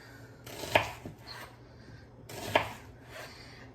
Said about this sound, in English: cut up this other half of the onion.